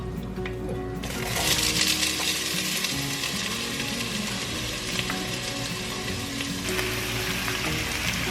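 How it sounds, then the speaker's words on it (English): Onions and garlic sauteing with pepper and salt in a pan on medium heat, a loud steady sizzle and crackle running throughout with occasional utensil clinks, no talking. "Just kind of saute them in there with a little bit of pepper and a little bit of salt."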